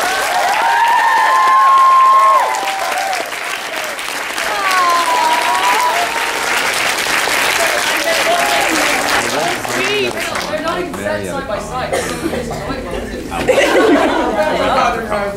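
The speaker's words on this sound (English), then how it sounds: "can everyone please give a round of applause to Ali and Dante?" A convention panel audience applauds a honeymoon couple, the clapping swelling over chatter, laughter and cheering while voices talk and exclaim throughout.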